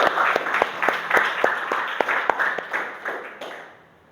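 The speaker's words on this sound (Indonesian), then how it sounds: "beri tepuk tangan buat kelompok 5" A group of people applauds in a room, with brisk overlapping claps that carry on steadily and then fade out toward the end.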